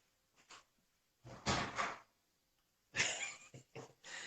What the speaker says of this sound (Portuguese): Tá lá arranhando a porta, porque ele quer dormir.